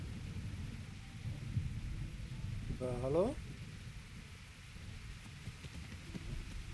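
Thunderstorm with rain in the video game Kingdom Come: Deliverance, a soft steady patter of rain and a low rumble, with a brief spoken voice in the middle.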